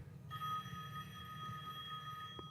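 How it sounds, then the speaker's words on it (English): A telephone rings in a horror film scene, one continuous, faint electronic ring heard over a low background rumble. "The phone rings."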